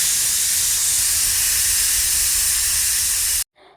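A pressure cooker whistle blasts a loud, steady jet of hissing steam that cuts off abruptly near the end, with no talk over it.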